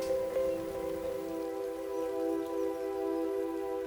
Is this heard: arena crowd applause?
no